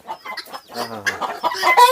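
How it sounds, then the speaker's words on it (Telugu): Native country chickens in Bhimavaram cluck and chatter up close in a quick, busy burst of short calls. "ఇవి మన కోళ్ళు"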